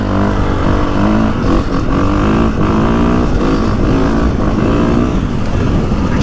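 A 2021.5 KTM 450 SX-F Factory Edition motocross bike's 450 engine revs up and down repeatedly, loud and close, its smooth rising tone pulsing with each throttle blip and no voices over it.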